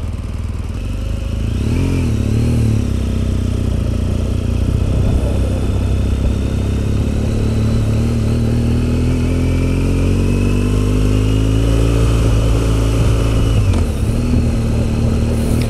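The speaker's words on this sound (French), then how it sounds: "Ce sont mes premiers 100 mètres que je fais avec cette moto" A BMW 1200 GS motorcycle being ridden, its engine droning steadily and rising in pitch as it accelerates and shifts through gears, close and continuous with wind noise.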